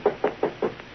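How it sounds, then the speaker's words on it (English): Four firm knocks on a door, evenly spaced in quick succession, close and clear with no other sound around them. "A knock on the door produced results."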